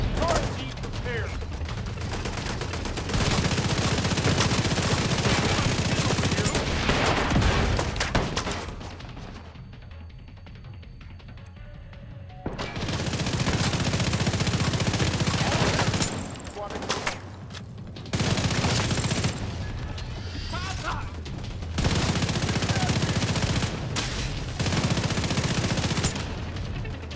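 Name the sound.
suppressing gunfire in the video game The Division 2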